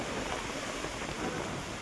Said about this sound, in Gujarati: કેવો વરસાદ જો કેવો વરસાદ